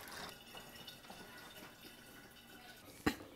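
Water runs from a reverse osmosis filter faucet into a container, a steady low-level flow with a sharp clunk near the end.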